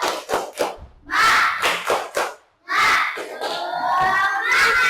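Schoolchildren in an Indonesian classroom perform a rhythmic clapping chant, sharp claps in patterned bursts mixed with their shouted voices, ending in loud group cheering.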